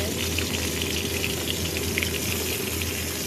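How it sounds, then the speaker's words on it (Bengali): Tilapia fish fries in oil, producing a constant loud, hissing sizzle that stays even throughout, close by, with no speech. "এই দেখো তেলাপিয়া মাছ ভাজা হচ্ছে।"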